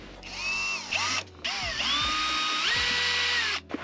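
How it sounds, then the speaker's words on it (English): A cordless screwdriver fitted with a 7mm socket unscrews the bolts of a Ford Transit van's headliner shelf, whirring steadily in several sustained bursts that rise and fall in pitch, loud and close, with no talking. "We're using a 7mm socket on a screwdriver to unscrew."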